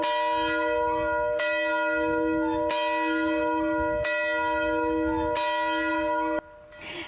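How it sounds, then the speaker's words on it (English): A large church bell outside St. Joseph Catholic Church in Kennewick rings loudly and close, five evenly spaced strikes each ringing on with a long decay, then the sound cuts to quieter background noise. "ringing the large bell outside St. Joseph Catholic Church right there in Kennewick"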